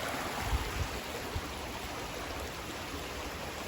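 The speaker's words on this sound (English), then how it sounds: "Nice little river." A small mountain river flows in a steady, soft rush of water with no distinct splashes, heard fairly faint and continuous throughout.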